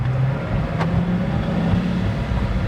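Pagani Huayra carbon fiber supercar roars under hard acceleration, a loud, dense engine drone heard from inside the cabin that holds strong and steady throughout.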